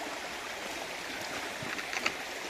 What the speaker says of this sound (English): collect a little bit of the river water there.